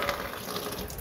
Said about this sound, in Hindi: तो अभी इनको दोबारा से धो लेते हैं।